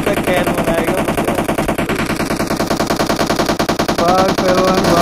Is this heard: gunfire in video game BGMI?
yes